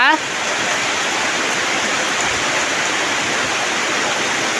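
A brief voice at the very start, then heavy storm rain falls on a rural home beside rice fields in Thailand in a constant, loud rushing hiss that fills the rest of the clip.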